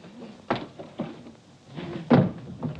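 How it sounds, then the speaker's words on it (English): A door in a 1950s British sitcom household handled several times, with knocks and bumps at irregular intervals, the loudest thud near the end suggesting it being shut, fairly close and unaccompanied by talk. "come in, don't stand there waving the door about"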